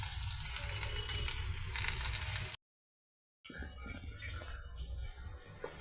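Okra pieces from a terrace garden fry in oil with curry leaves and tempering seeds, giving a steady, dense sizzle that cuts out briefly before the crackling resumes.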